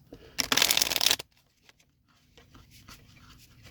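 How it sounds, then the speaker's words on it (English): Cards from a RadLands board game deck riffled in one quick shuffle, a dense burst of crisp papery flutter lasting under a second, then near silence with faint handling noises. "Then shuffle the deck. I'll shuffle the deck."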